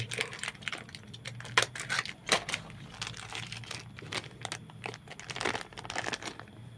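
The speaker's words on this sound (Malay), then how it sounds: "Tu dia asingkan plastik." Plastic packaging from a Beyblade X Crimson Garuda toy is crumpled and pulled apart, a quiet close-up series of irregular crinkles, snaps and rustles.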